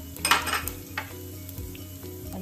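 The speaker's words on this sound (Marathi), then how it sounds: "शेंगदाणे तळल्यानंतर मी आता इथे फोडणीमध्ये मोहरी घालते आहे" Mustard seeds and cumin hit hot oil for a tempering in a Khandesh-style spicy brinjal bharit, after peanuts were fried, giving a steady close sizzle with a few sharp crackling bursts and faint utensil clinks.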